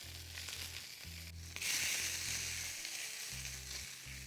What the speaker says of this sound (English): I want to let that heat really pick up and start the browning process on the onions, the ginger,